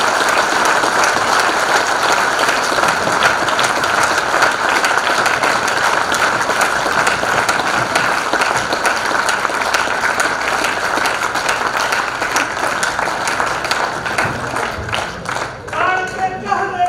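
An audience applauds steadily and loudly throughout, a dense wash of clapping from a large crowd at a speech, thinning slightly near the end.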